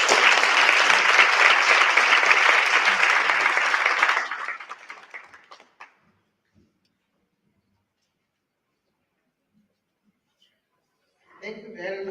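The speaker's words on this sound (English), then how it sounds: "Please join me as I welcome her with a warm round of applause." An audience gives a warm round of applause to welcome someone speaker, loud and dense for about four seconds before thinning into a few scattered claps and silence, then a voice starts speaking.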